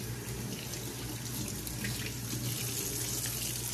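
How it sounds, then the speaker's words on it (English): Hands rinsed under a running tap at a sink during hand washing, a steady, close, full rush of water that continues without a break and with no talk. "We're gonna rinse them off."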